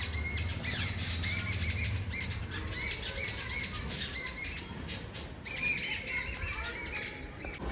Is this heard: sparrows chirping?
yes